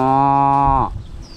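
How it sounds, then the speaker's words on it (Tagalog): A water buffalo (carabao) in a herd lets out one loud, close, sustained low moo that holds steady and then breaks off abruptly, leaving quiet background noise. "Kalabaw po, ang dami."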